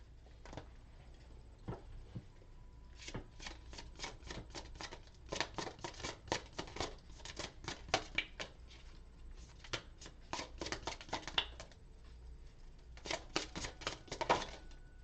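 A deck of Mystic Martian Oracle cards is shuffled by hand in quick, soft riffling bursts, up close and quiet, repeating in several rounds with short pauses between.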